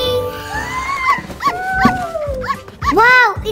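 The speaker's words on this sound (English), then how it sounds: "Wow, it's a dog." A dog gives a run of high, wavering whimpers and short yips, several rising and falling whines in close succession, near and fairly loud.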